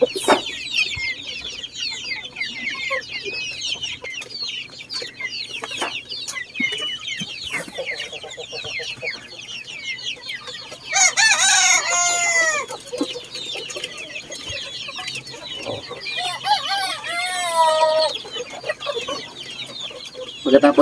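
Backyard chickens cluck and chatter in a steady, close flock, and a rooster breaks in with loud crows midway and again near the end. No one speaks.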